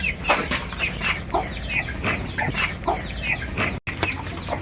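Hens and five chicks in a cage cluck and cheep repeatedly, close and busy, with scattered short calls overlapping throughout.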